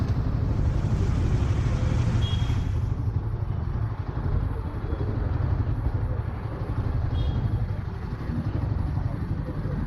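A Royal Enfield Guerrilla 450 motorcycle being ridden, its engine a steady low rumble mixed with wind noise throughout, a slight dip near the middle, with no clear talk.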